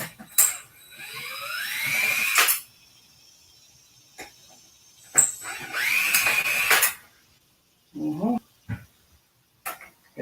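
A power drill backs screws out of scrap metal in two long whirring runs, each about two seconds, rising in pitch as the screw frees, then short clicks and clatter between; someone talks briefly near the end.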